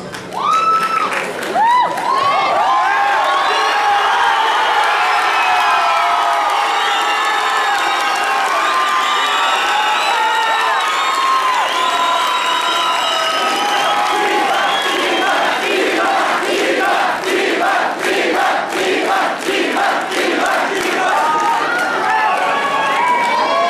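Audience at the Expo Comic Ichiban 2011 men's cosplay contest, cheering, whooping and shouting loudly in a sustained crowd roar, with rhythmic clapping building toward the end.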